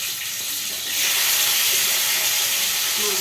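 Fish frying in a pan, a loud steady sizzle and hiss that swells about a second in and holds strongly, close up with no talking.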